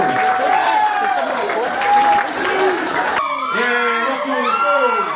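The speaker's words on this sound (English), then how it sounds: "please give a round of applause for Lotu because he needs attention" Applause and whoops fill a hall at a 21st birthday and farewell party as the guest of honour, Lotu, is called to the stage. Shouting voices and lively cheering ride over the clapping, which grows more animated partway through.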